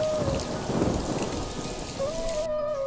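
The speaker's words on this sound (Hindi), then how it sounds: "जंगल में मूसलाधार बारिश शुरू हो जाती है।" A heavy downpour pounds steadily in a cartoon jungle, with rumbling thunder rolling beneath the dense, constant hiss of rain throughout.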